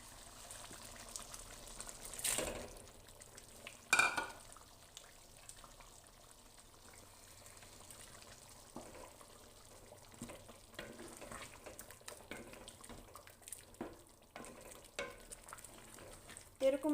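Shrimp with cumin powder frying in a pan while being stirred, a low steady sizzle broken by a few sharper clinks and scrapes of the spoon, fairly quiet and with no talking.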